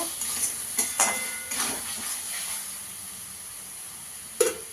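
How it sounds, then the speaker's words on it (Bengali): Fried potatoes are stirred into a spice masala in a pan with oil, a soft continuous sizzle running under a few clinks and scrapes of a spoon against the pan. "এবার আলুটা দিয়ে দেবো, ভেজে রাখা আলুটা দিয়েও ভালো করে কষিয়ে নেব।"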